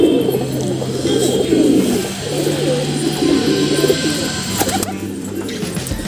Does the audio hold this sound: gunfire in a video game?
no